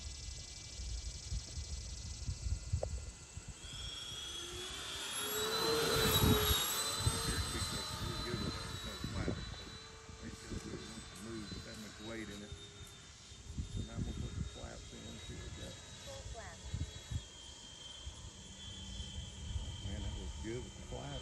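A Freewing A-10 Thunderbolt II twin 80mm EDF RC jet passes on its landing approach with gear down and power off, a steady high whine swelling and fading near mid-clip, with talk heard over it.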